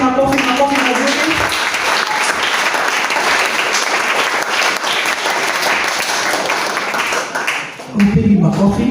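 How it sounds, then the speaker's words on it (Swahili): Church congregation applauding in a sustained, loud burst of clapping that fills the room, fading slightly near the end as a voice comes back in. "Nasema tuwapigieni makofi mazuri."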